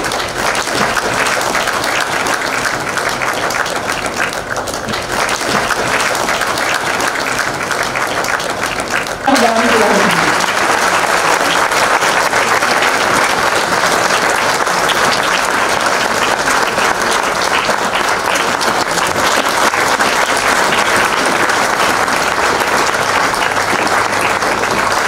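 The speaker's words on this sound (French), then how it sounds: "nombreux applaudissements, accueillant les invités de marque qui commencent" Sustained applause from a large crowd welcoming distinguished guests at the opening ceremony of a high-level forum, a dense continuous roar of clapping lasting throughout, with a brief voice partway through.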